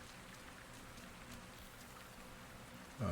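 Steady, soft rainfall patters continuously in a misty forest landscape with a waterfall in the game Avatar: Frontiers of Pandora, faint and even throughout, with a brief louder bump at the very end.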